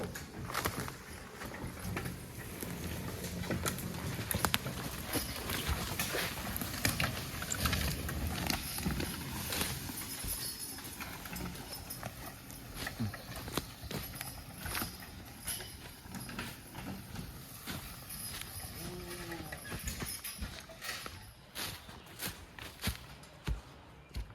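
Horses walking while skidding hemlock logs, with soft, irregular hoof falls and shuffling steps over ground, faint and continuous in an outdoor setting.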